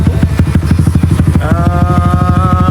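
JRQ MT450 motorcycle engine running close by, a loud, steady rhythmic pulsing throb whose pitch steps up and holds higher partway through, with no voices.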